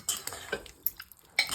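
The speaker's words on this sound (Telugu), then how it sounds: "ఒకసారి అంతా మిక్స్ చేసుకోవాలి." A spoon stirs and mixes gooseberry pickle in a pan, giving a few light, scattered scraping and clinking strokes at close range with quiet pauses between them and no talk.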